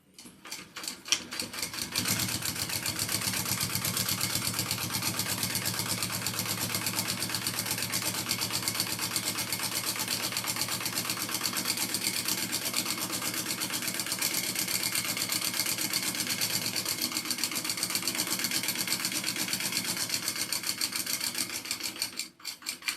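A sewing machine stitches a seam along a leopard print shoulder bag, running continuously at a fast even rhythm for about twenty seconds, close and loud, starting and stopping at the ends.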